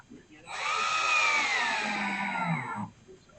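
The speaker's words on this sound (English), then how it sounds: "and we'll screw them into place." A cordless drill drives 1 5/8 inch screws into the boards of a wooden outdoor table, one steady whirring run of about two seconds, close and loud, with a pitch that drops slightly as the screw seats.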